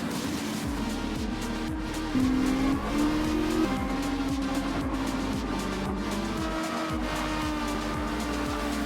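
A race car in Gran Turismo 7 revs hard through rising gear sweeps, its engine droning loud and close, while tires squeal and skid at intervals.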